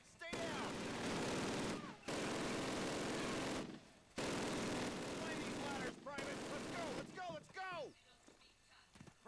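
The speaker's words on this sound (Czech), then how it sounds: "Ač k nám střílí, tak nevadí." Video game battlefield gunfire in dense bursts of rapid shots, loud and close, stopping briefly before resuming and thinning to scattered cracks at the end.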